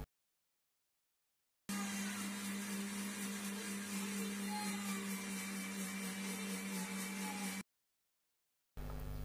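Mixer grinder blending gooseberries with lemon juice, a steady loud whirring motor hum running for about six seconds before cutting off abruptly, with a short burst after a pause.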